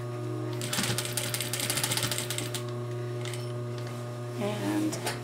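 Stitching a pillow closed, a sewing machine gives a faint, rapid mechanical patter over a steady electrical hum, with a short burst of stitching near the start and another toward the end.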